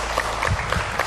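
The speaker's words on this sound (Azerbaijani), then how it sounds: "Alqışlar Faiq bəyə." Studio audience applause on an Azerbaijani TV show, steady clapping lasting the whole short moment at moderate loudness, with no voices over it.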